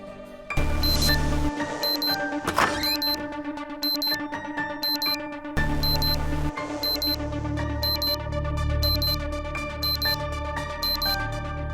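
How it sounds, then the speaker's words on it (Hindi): A phone alarm rings early in the morning, around 4 a.m. before the Karva Chauth sargi meal, with a steady repeating electronic melody of bright tones over a low hum, continuing for the whole stretch. "कौन बेवकूफ यहाँ अलार्म लगा के चला गया है सुबह सुबह फोन पे?"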